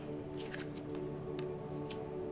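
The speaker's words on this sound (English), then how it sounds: "I haven't used this deck a lot either. It's a little hard to shuffle" A deck of tarot cards being shuffled, with soft papery riffles and flicks in short bursts over a steady background hum.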